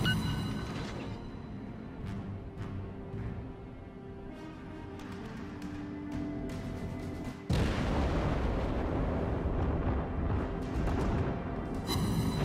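Anti-aircraft guns on warships in World of Warships crack and boom in dense bursts, muffled at first and then abruptly louder and fuller halfway through, a continuous barrage of sharp reports over a rumbling bed with no voices.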